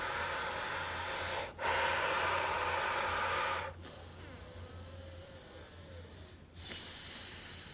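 Slow, deep breathing in Sama Vritti pranayama, square-breathing practice: long sustained airy breaths close to the listener, a strong inhale-like hiss followed by softer, longer exhaling with brief pauses between, and no talking.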